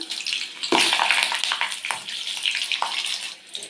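Green chilies for vada pav frying in hot oil in a kadai, a close bright crackle and bubbling that surges at the start and then fizzes on unevenly.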